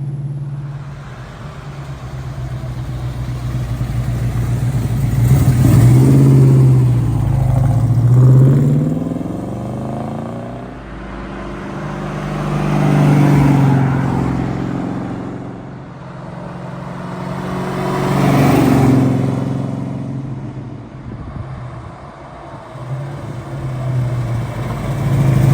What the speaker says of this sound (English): Great V8 rumble.